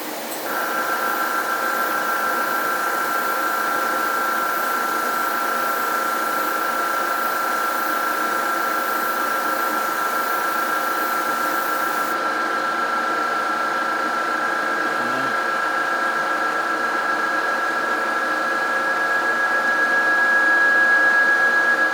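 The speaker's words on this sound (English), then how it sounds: "Just put some air on it." An airbrush blows plain air to dry paint on a model steam locomotive, giving a steady, close hiss with a constant high tone that runs unbroken throughout.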